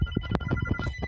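A telephone rings inside a video game set on an airplane, giving a quick, repeating electronic trill at close range with no talk over it.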